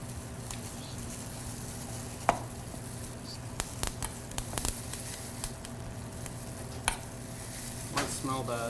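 Jalapeno bacon peppers sizzling in a pan, a continuous frying hiss broken by irregular sharp pops and crackles, close and steady, with no talking.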